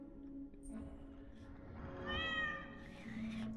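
A cat meows inside the indie horror game The Dreadthorn Therapist, a soft drawn-out mew and then a brighter rising call over a quiet, droning background.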